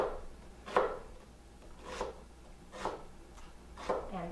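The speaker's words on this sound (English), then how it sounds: "Just a rough chop." Kitchen knife roughly chopping vegetables on a wooden cutting board, four or five separate thuds spaced about a second apart, close and moderately loud.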